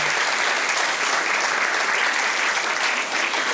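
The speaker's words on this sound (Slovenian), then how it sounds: "Zaploskajmo malo" Audience at a dance group showcase applauding, dense steady clapping from a full hall that holds at the same loud level throughout, with no voices over it.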